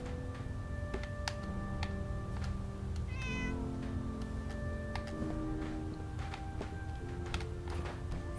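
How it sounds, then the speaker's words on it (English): A cat meows several times in Fallout 4, short tonal calls rising and falling over a quiet game ambience with soft ticking. "How are you, little kitty?"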